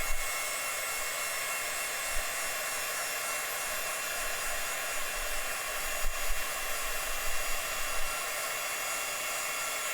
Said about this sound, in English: And now here's where we use the heat gun.